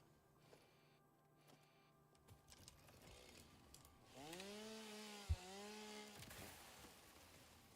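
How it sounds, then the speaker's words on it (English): A chainsaw in a factory-building video game revs up and cuts through trees, its buzzing whine rising and falling over several seconds, fairly loud and alone after a quieter lead-in. "Where'd my chainsaw go? Chainsaw, get in here."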